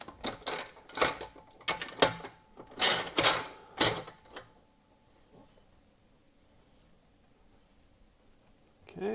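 A resin casting pressure pot lid is tightened down, giving a burst of close metallic clicks and clanks in uneven clusters, then near silence with a faint hum.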